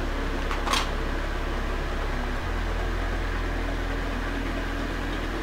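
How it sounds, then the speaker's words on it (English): An electric fan runs continuously nearby in a room, giving a steady broadband whoosh with a low motor hum that shifts slightly partway through, with no speech. "Please excuse the fan."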